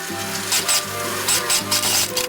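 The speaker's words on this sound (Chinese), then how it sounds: "这时候我们就可以把里部放在上面去车缝" A sewing machine running steadily as it stitches the lining seam of a handmade tote bag with a 0.7 cm allowance, a continuous mechanical whirr with slight rhythmic pulses, partly masked by background music.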